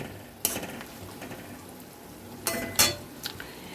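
Chopped garlic hisses in hot oil in a pan while being stirred, with soft scraping and a few brief louder sizzling bursts over a low steady frying bed.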